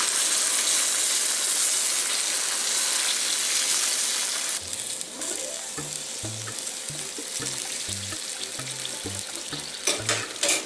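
Shrimp broth pours and strains through a strainer for shrimp meatballs with vegetables: a steady, close rushing splash fills the first few seconds, then it thins to a quieter trickle with scattered light knocks.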